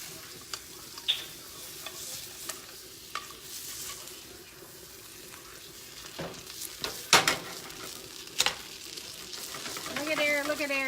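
Butter sizzles and crackles steadily in a frying pan beneath grilled cheese sandwiches, with a few sharp clinks and scrapes of a utensil rising over the hiss near the end.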